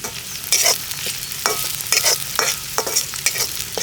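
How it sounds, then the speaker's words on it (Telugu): Onion and garlic fry in oil with a bright continuous sizzle, punctuated by frequent stirring scrapes of a utensil against the pan, close up and fairly loud. "ఉల్లిపాయ వెల్లుల్లి అన్నది లైట్గా ఫ్రై చేసుకోవాలి మాయా."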